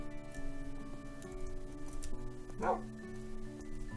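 A dog in the Minecraft video game gives a few faint, short yips and whimpers over steady tonal game music, with a brief soft voice in the background.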